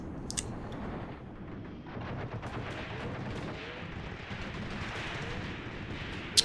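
Gunfire and rocket launcher blasts from a WWII tactical battle in Graviteam Tactics: Mius Front, with dense continuous rumbling shots and explosions, scattered sharper cracks and a loud burst at the very end.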